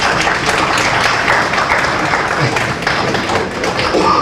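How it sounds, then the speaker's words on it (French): A seated audience at a book dedication event claps steadily, a full, continuous round of applause at close range with no break. "Sous vos applaudissements, s'il vous plaît."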